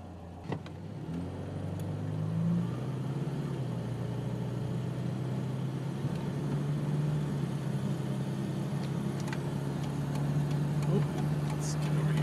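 A 1982 BMW 325 with an automatic gearbox and four-cylinder engine drives along steadily, its mid-pitched hum holding loud and close throughout, with road noise and a slight rise in revs early on.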